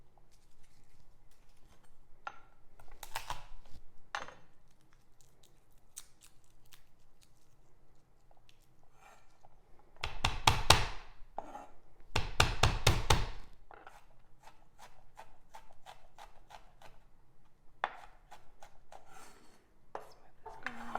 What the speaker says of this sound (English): So I've got the garlic and we're just gonna start peeling and slicing that as well.